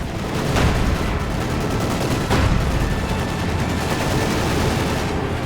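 Dense, continuous gunfire from a battle in Company of Heroes 2, with machine-gun bursts, rifle shots and booming artillery layered into a loud, unbroken roar.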